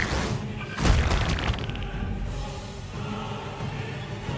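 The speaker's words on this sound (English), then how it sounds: "as you executed a powerful blast from your bowels" A cartoon fart blast attack in South Park: The Fractured But Whole lands as a loud booming burst with a thud, then dies away over a low rumble.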